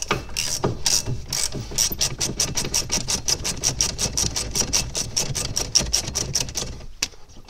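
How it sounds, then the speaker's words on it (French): Ratchet wrench with a 17 mm socket loosening brake caliper bolts on a Toyota Aygo / Citroën C1 / Peugeot 107, a fast, even run of sharp metallic clicks, close and continuous, stopping just before the end. "maintenant avec la douille de 17, on va finir de desserrer les vis."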